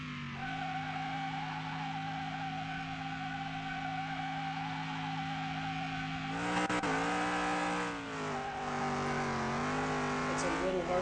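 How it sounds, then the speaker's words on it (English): A Ford F-100 truck in Car Mechanic Simulator 2021 holds a steady, loud engine drone with tire squeal, then its pitch shifts and wavers as the revs change partway through, with no talking over it. "Firstly, we're gonna go ahead and roast the tires."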